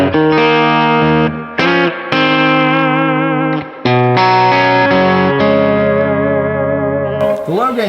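Electric guitar played through a Skylark pedal on its low gain setting, with reverb around ten o'clock, giving a chiming blackface-style tone: sustained chords and ringing notes with a few brief gaps, loud and close.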